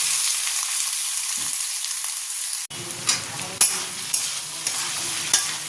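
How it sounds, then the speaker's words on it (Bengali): Potato and onion fry and sizzle in oil in a wok. A steady hiss is broken by the knocks and scrapes of a spoon stirring, with no voices. "আলুটা ভাজা ভাজা হয়ে গেছে"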